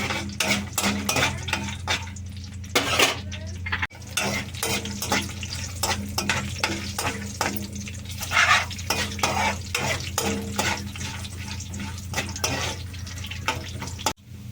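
Mustard seeds and other spice seeds crackle in hot oil for a tempering, with a dense run of sharp pops and sizzle mixed with spoon stirring and clinks against the pan, close and steady throughout.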